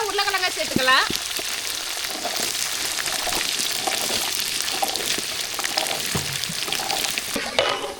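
Mustard seeds and curry leaves hitting hot oil for sambar, a loud continuous crackling sizzle with popping spatters, with a brief voice at the start.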